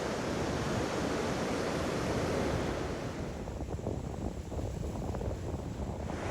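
Surf breaking steadily on the beach at Lido di Venezia, a long sandy shore, under overcast, chilly weather; continuous wash of waves with wind noise, loud and close, no talking.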